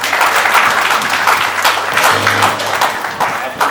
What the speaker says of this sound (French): Mais recevez quand même nos applaudissements.